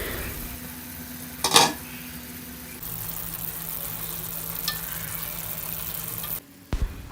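Spices roasting in a pan for misal give a soft, steady sizzle, punctuated by a clink of utensils early on and a couple of sharp knocks near the end.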